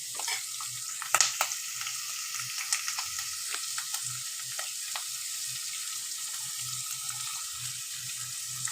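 Bitter gourd and onion frying in a pan with a little tamarind, a steady soft sizzle with scattered crackles and faint stirring scrapes, close and continuous with no talking.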